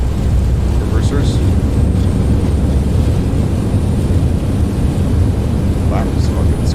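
Thrust reversers roar on an Aerosoft CRJ900 landing in Microsoft Flight Simulator, a loud continuous low rumble of engine noise with brief faint higher sounds over it.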